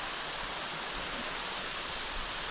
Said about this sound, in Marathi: सकाळपासून ऊन होता आणि आता पाऊस लागायला लागला